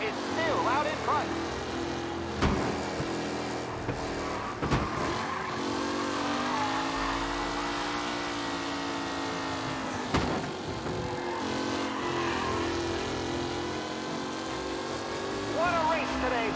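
Race cars roaring around a track in Mafia Definitive Edition, a steady, loud engine drone with rising and falling pitch as the cars pass, with occasional sharp knocks cutting through.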